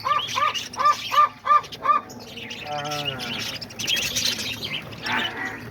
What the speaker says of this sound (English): you can see the birds right there all going crazy eating